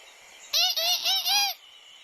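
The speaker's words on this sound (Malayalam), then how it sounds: "അത് പീപ് പീപ് പീപ് എന്ന് ഒച്ചെടുക്കുന്നത് നമുക്ക് തീർച്ചയായും കേൾക്കും" A cartoon little bird peeps four times in quick succession, bright, high and fairly loud, close up against a quiet background.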